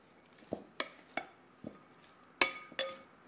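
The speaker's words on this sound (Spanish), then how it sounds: "Vamos a mezclar." Pasta being mixed in a large serving bowl: six separate clinks and scrapes of utensils against the dish, sparse and close, louder toward the end, with no talk.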